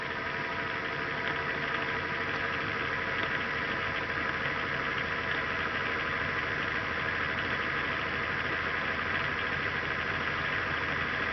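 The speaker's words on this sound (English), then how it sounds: "The motor is speeding right up." A Bedini SSG motor running steadily with its timing coil advanced, giving a continuous dense mid-pitched whirring hum with fine ticking texture, close and constant throughout with no voices.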